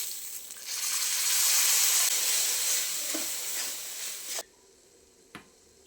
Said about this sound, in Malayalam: ഇതിലേക്ക് 1 സ്പൂൺ പച്ചവെള്ളം ഒഴിച്ചു കൊടുക്കാം.